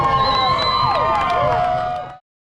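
A large parade crowd cheers and whistles in a loud, continuous wash of voices, with shrill whistle tones gliding over the din before it cuts off abruptly.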